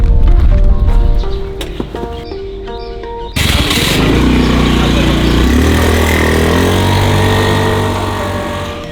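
A motorbike engine on Koh Mak, Thailand, fires up a few seconds in and keeps running with a steady loud drone, following a short stretch of tonal background sound.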